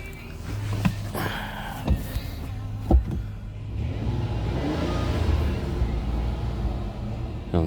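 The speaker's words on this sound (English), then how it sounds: "I'm gonna rev it a little bit, see what happens." Engine of a 2007 Ford Escape XLT revving in short bursts, a few sharp throttle blips over a steady idle rumble, close and fairly loud, with faint voices in the background.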